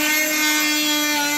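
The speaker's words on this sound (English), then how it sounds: "First up, we have the Milwaukee titanium blade cutting through pine." A Milwaukee titanium oscillating multitool blade cuts into a pine 2x4 with a loud, steady high-pitched buzzing whine, close up and continuous for the whole moment.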